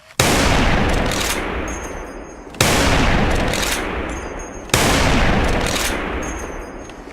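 Three loud sniper rifle shots ring out in the shooter game Soldier Front 2, each a sharp blast followed by a long, slowly fading rumble, evenly spaced and heard alone.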